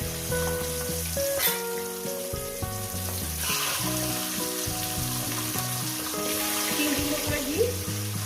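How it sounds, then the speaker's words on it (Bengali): Katla fish heads sizzle and crackle in hot oil with a little turmeric, a dense, constant frying hiss close to the pan, with clinks and tonal clatter from cookware over it throughout. "এবার আস্তে আস্তে আমি মাছের মাথাগুলো দিয়ে দেবো গরম হয়ে গেছে"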